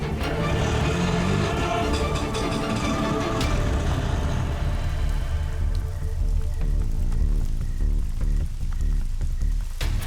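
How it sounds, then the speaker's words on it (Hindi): Steady, heavy rain falls on a surface outdoors beside a vehicle in a crime drama scene, a loud continuous patter that carries on under tonal background music in the second half. "बारिश में भीगिए मत, अंदर आ जाइए।"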